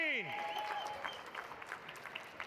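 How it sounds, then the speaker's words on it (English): An audience at the 2017 ACE Comic Con on Long Island claps steadily after an art combat round, a dense patter of applause that starts loud and gradually thins. "one more round of applause for Crystal and Claudine."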